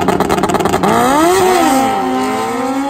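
A Kawasaki ZX-14 motorcycle launches off the line at a drag strip, its engine note rising steeply and sweeping upward as it accelerates hard, loud and close, after a brief stretch of choppy idle rumble.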